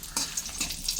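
Ten cut dried red chillies fry in oil, a brief soft sizzle with light stirring scrapes, close and fairly quiet.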